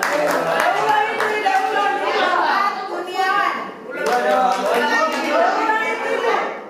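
Students in a classroom clap for a classmate in two short bursts of scattered hand claps, mixed with children's chatter and a teacher talking over them.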